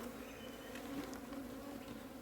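A wild colony of karinjodiyan honeybees hums steadily as the bees are driven into a box, a dense, continuous buzz heard close by with no voices.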